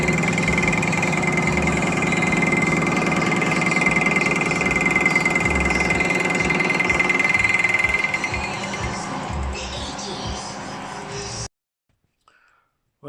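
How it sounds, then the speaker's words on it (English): A lathe hums steadily while facing the offside rear wheel hub of a 2-inch scale Fowler showman's traction engine model, a close continuous machining drone that eases off before cutting out near the end. "Just facing up the offside rear wheel hub."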